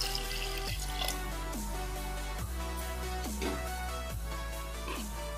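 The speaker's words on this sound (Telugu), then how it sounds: "ఇప్పుడు ఇలా కొన్ని నీళ్ళు పోస్తాం," Water poured from a half glass into a pan of mutton curry over cooked-down tomatoes and oil, heard as a close stream of splashing and dripping with repeated gurgling pours.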